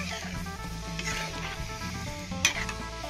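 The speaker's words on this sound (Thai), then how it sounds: "รอให้เดือดสักครู่นะคะ" A pot of five-colour bean dessert bubbles and simmers with a steady sizzling hiss and a brief clink near the end, close up, with no talking.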